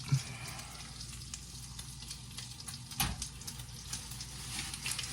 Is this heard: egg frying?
yes